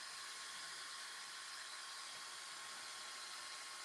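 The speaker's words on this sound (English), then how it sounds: "blow dryer back and forth." A blow dryer works back and forth while drying a beard, giving a steady airy whir with a faint whine, constant and fairly quiet, with no speech.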